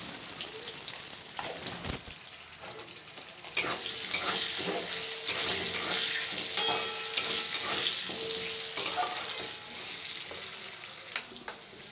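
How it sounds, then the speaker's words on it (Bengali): Potato pieces fry in a hot pan with salt for a rohu fish curry with pumpkin, giving a steady close sizzle with scraping stirs and clinks that grow louder after a few seconds; no one talks. "আলুটা যাতে তাড়াতাড়ি ভাজা হয়ে যায় সেজন্য দেবো লবণ"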